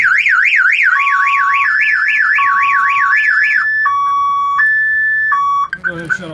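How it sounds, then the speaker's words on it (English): A loud electronic boat security alarm wails in rising and falling sweeps, then switches to alternating two-tone beeps before cutting off abruptly. "the alarm will fire off."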